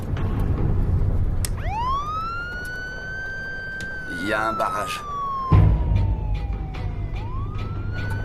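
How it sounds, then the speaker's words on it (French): A police car siren wails in long rising and falling sweeps over steady road rumble, close and loud, with a brief voice speaking partway through. "Enclenche la sirène."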